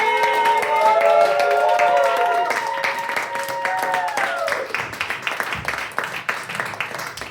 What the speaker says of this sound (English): That's an amazing spontaneous amount of clapping that you just did there.